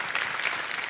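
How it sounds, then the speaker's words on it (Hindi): A studio audience at a televised dance competition bursts into loud, dense applause for a dancer. The clapping is close and sustained, with a faint hint of crowd noise. "एक बार जोरदार तालियां हो जाए राम के लिए।"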